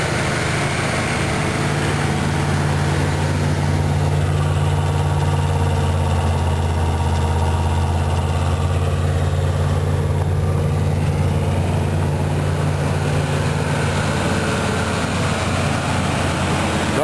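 A car engine idles steadily up close in a project car awaiting an engine swap or rebuild, a continuous low rumble with a droning hum that holds even throughout, with no voices.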